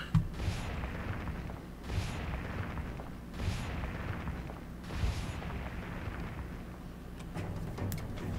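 Repeated explosions in the video game Owlboy, four booming blasts spaced about every one and a half seconds over a rumbling background, followed by a few sharper cracks near the end.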